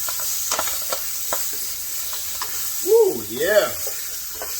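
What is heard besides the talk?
sautéing bok choy with salt in a pan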